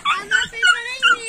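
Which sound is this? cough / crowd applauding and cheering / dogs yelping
dogs yelping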